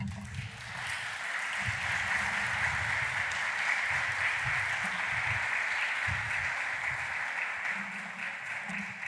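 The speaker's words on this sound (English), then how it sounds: "Please, let's give them another round of applause." Sustained audience applause for student presenters at a public speaking competition, steady and dense throughout with a faint low murmur of voices underneath.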